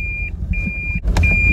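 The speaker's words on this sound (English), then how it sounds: "Oh, there's a car coming." A car passes close by outdoors on a summer day, a short loud engine rush with a steady electronic beep tone running through it, no talking.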